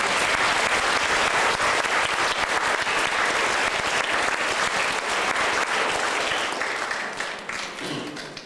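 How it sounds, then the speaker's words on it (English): Sustained applause from a large audience, dense steady clapping that fades slightly toward the end. "Can you please give him a round of applause?"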